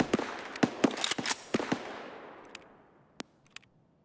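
AK-74 gunfire in the Escape from Tarkov video game: a quick cluster of sharp, echoing shots, then a fading tail broken by a few isolated single cracks.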